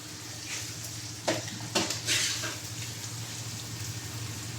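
Fish frying in a pan in a room kitchen, a steady close sizzle with a few sharper scrapes and clinks of utensil stirring partway through.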